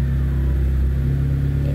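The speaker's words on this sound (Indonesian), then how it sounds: "Ini cukup 30 detik aja sudah, ini ya sudah di bawah RPM 1000 ini." A Pick Up T120SS engine idles steadily below 1000 RPM during warm-up, a low, even rumble with a constant hum and no revving, close and alone.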